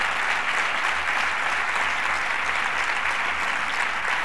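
A large audience claps without a break at the closing of the 11th CCOO trade union congress. The dense, loud applause holds at an even level throughout with no talk over it.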